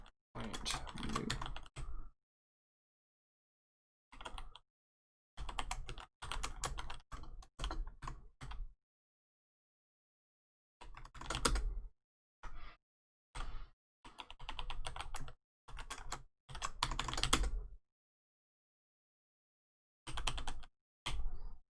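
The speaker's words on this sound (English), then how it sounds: "We type this message" Computer keyboard typing in irregular bursts of quick key clicks separated by short pauses, close and fairly clear, with no talking.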